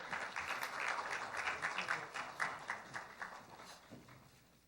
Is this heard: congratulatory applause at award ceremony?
yes